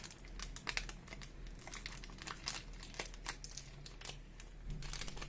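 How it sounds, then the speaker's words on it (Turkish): A Nescafe instant Turkish coffee packet being torn open, a close, quiet run of crinkling plastic with small tearing clicks and rustles, alone with no talk. "Paketimi açıyorum."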